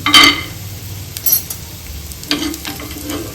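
Cashews sizzle in a mix of ghee and oil for curry leaf lemon rice, with soft crackling, a few stirring scrapes and metallic clinks rising and falling over a steady fry.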